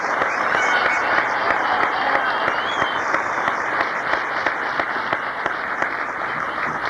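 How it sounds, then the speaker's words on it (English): A big round of applause from a Narcotics Anonymous meeting audience, dense steady clapping that fills the room evenly and continuously from start to finish, with no pauses. "Let's give them a big round of applause."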